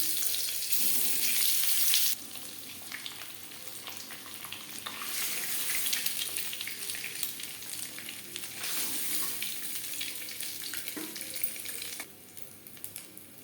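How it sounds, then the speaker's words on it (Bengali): Egg frying lightly in oil for chicken biryani, a steady loud sizzle that surges in intensity and dips in waves, heard alone without talking. "ডিমটাও হালকা করে ভেজে নেব"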